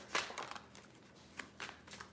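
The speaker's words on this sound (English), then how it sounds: "3 shuffles. Ooh, that's way too many, guys. Put those back. 2 more shuffles." Tarot cards are shuffled by hand during a reading, a quiet run of soft riffling flutters and light taps, close but faint, with no speech.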